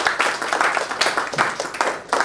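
Audience clapping and applause at a sermon-style talk, a dense, steady patter of many hands continuing throughout at moderate loudness with no voices over it.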